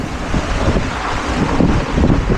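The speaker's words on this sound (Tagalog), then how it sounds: "Lakas ng hangin." Strong, continuous typhoon wind in Isabela, Philippines roars and buffets the microphone, a dense rumbling rush with gusts swelling louder toward the end.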